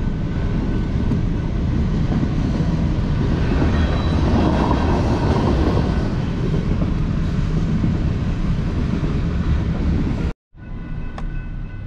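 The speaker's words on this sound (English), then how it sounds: "Looks like I'm gonna have to wait for the train." A train rumbles past at close range, a loud continuous roar of wheels and cars on the tracks, cutting off abruptly near the end.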